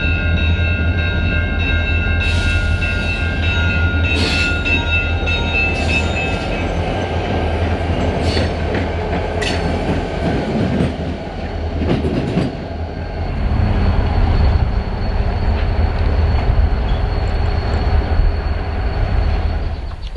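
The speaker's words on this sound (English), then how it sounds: "the first train we ended up catching moving was the Byron helper set returning to Fond du Lac after pushing a southbound up the hill" A Canadian National helper locomotive set rolls past on the rails near Byron Hill, returning to Fond du Lac. A loud, steady engine rumble runs under clattering wheels, with sharp squeals and metallic clanks partway through.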